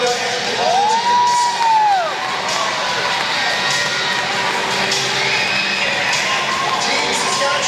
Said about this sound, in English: Let's have a huge round of applause for Team Alberta and the volunteers.